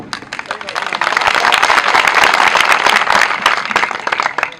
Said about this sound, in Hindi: यहाँ बहुत जोरदार ताली बजनी थी